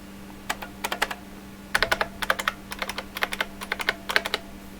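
Rapid typing on a computer keyboard connected through a PS/2 converter, with clustered bursts of crisp key clicks, short pauses between groups, close and clear over a steady low electrical hum.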